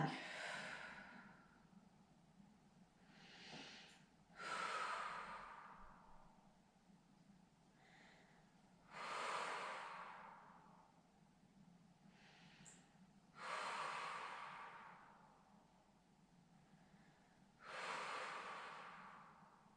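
Slow, deep breaths during a chair Pilates exercise, five long hissing exhalations spaced a few seconds apart, close and soft, with quieter inhales between them and no talking.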